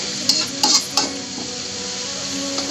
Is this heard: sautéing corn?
yes